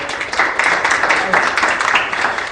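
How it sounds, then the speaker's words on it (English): An audience at a goals program claps steadily for a guest called Pat, a dense, lively patter of many hands that holds fairly loud from start to finish. "Let's give Pat a big clap."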